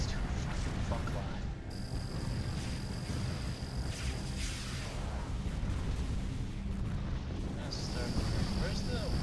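Antimatter torpedoes firing and detonating in the space strategy game Sword of the Stars: a dense, continuous wash of booming blasts and rumbling explosions, with high whining tones sweeping in and out over the barrage, loud throughout.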